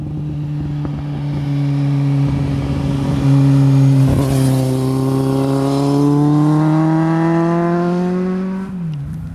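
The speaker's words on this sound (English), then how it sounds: "The roar of the engine and its unrestrained power begs to be abused." A 2010 Kawasaki Z750 motorcycle engine roars loud and close, holding a strong steady drone and then climbing smoothly in pitch as it revs up before cutting off at the end.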